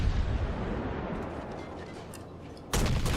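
Naval guns boom in the World of Warships video game: a rumbling barrage of heavy cannon fire, with a loud fresh blast near the end and no voices.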